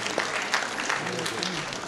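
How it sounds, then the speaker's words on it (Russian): A crowd at a Kazakh beauty pageant breaks into steady applause, with speech running over the clapping. "ваши бурные аплодисменты"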